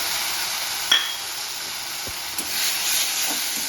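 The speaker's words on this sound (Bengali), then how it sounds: "এবার আমি দিয়ে দেব টমেটো, আদা রসুন কাঁচা লঙ্কা পেস্ট।" A paste of tomato, ginger, garlic and green chili sizzles steadily in hot oil with a loud, continuous hiss, broken only by a couple of faint stirring taps.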